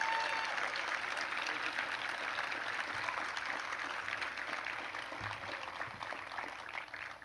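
A crowd at a senior class awards ceremony applauds the award winners, a steady, fairly faint roar of clapping that holds evenly and tapers slightly toward the end.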